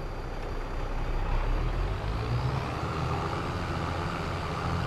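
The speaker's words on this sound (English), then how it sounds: "I think that's a distinctive different sound on that exhaust." A truck engine with a modified exhaust in the video game Farming Simulator 22 runs steadily, a low rumbling drone that rises slightly midway and holds throughout, close and fairly loud.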